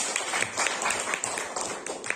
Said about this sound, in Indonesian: Mari kita tepuk tangan lagi